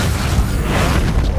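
A Confringo spell explosion in the Hogwarts Legacy video game bursts out as a loud, dense boom with rumbling low end, filling the whole short moment without pause.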